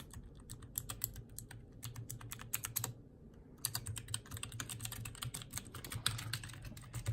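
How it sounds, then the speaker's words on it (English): Keys on a homemade mechanical keyboard are pressed in a steady run of close, crisp clicks and clacks with a brief pause partway through, with no talking. "we're just gonna press a bunch of keys here and see if they work"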